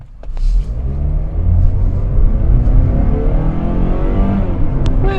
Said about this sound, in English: a little bit of an acceleration test here for you to show you what this car sounds like